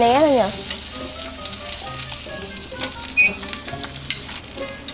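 Sausages fry in hot oil with a loud, steady sizzle broken by frequent sharp pops and crackles, close up and with no talking.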